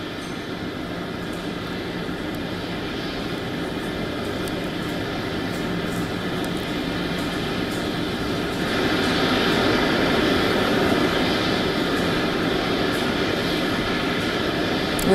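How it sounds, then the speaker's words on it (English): A Russian presidential aircraft touching down at Geneva airport, heard as a steady, loud broadband jet roar with engine rumble that swells slightly louder partway through, with no talk. "the aircraft, which has now touched down in Geneva"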